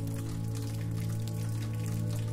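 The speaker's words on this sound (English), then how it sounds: "the rain tapping rhythmically on your umbrella" Steady rain falls and patters on an umbrella along a cobblestone village path, a dense, even hiss of drops with no pauses, heard close over a low sustained drone.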